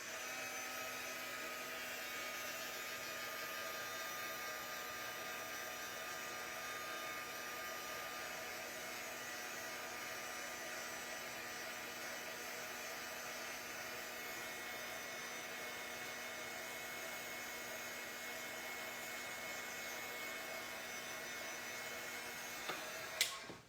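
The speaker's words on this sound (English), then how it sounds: "We're going to bring over the heat gun." A heat gun used for heat embossing a card blows a steady, even whirring roar that holds for over twenty seconds before a small click near the end.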